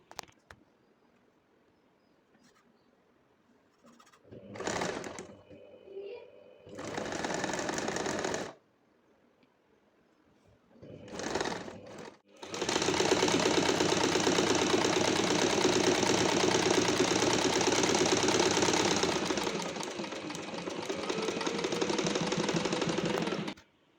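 A sewing machine stitches the folded hem of cotton pants, running in short close bursts at first, then in one long steady run of rapid mechanical whirring and clatter with no talk.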